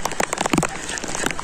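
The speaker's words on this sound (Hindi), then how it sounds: "धूप भी निकला हुआ भाई और बारिश भी हो रहा है" Rain pattering steadily on a surface during a sunshower on a cold day outdoors, close and continuous with dense drops, and a few louder splashes.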